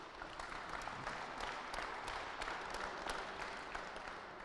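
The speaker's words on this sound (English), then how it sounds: "I want you guys to please give them a very good round of applause." A crowd gives a round of applause for the technical officials at a basketball final, steady many-handed clapping that sounds distant and fairly quiet, continuous for the whole stretch with no one speaking.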